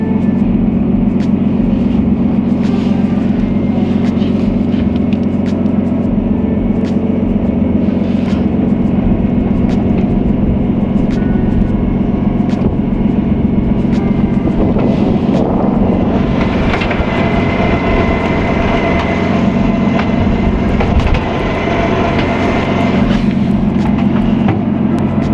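A C33 Nissan Laurel's engine idles and rumbles steadily up close as the car is driven slowly onto a trailer, the tone swelling briefly midway with a throttle push before settling again.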